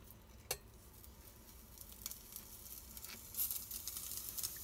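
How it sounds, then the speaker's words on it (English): Sausage going into a pan heated to medium-high, giving a soft, steady sizzle with a few light pats and clicks, faint and close, with no voices. "Once your pan comes to temp, you want to put your sausage in it."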